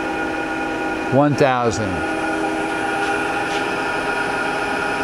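Bridgeport Romi EZ Path 17" x 40" lathe with a 5C collet closer, spindle spinning at 500 RPM: a steady mechanical hum with whining harmonics runs throughout, while someone talks briefly over it near the start.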